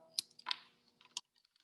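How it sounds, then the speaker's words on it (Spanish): Scissors snip through a flexible LED lighting strip at the marked cut point, giving a few soft, close clicks and a brief crunch, quiet and alone with no talk. "nada más hay que pasarle las tijeras por esta parte y van a ver que se corta"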